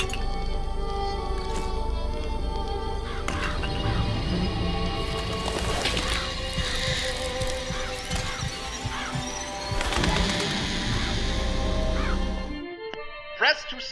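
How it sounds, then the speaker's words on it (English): Crows summoned by the murder-of-crows vigor in Bioshock Infinite, a flurry of caws, squishes and flapping crashes layered over game ambience and talk, cutting off abruptly near the end. "Press to summon murderous crows"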